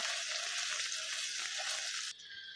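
Chutney with turmeric frying in hot oil for a tadka gives off a loud, dense, continuous sizzle heard up close, dropping abruptly to a quieter hiss near the end.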